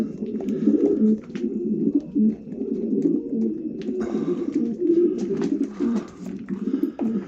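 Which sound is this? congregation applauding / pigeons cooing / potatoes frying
pigeons cooing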